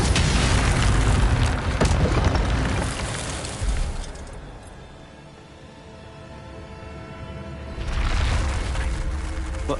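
An Incendio fire spell in Hogwarts Legacy bursts with a loud, close booming whoosh that fades into a low rumble, followed by a second fiery blast swelling near the end.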